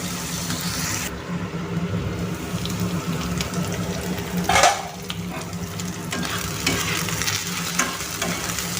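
Potatoes and onions fry in a pan with a constant close sizzle and hiss and a brief louder clatter of stirring partway through, no voices.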